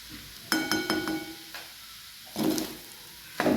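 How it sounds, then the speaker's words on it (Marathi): Leftover rice khichdi is sautéed in a pan, with a spatula striking and scraping the metal in sharp clinks and strokes over a low background sizzle, in two separate bursts of stirring. "आपण 2 मिनिट आता परतून घेऊया।"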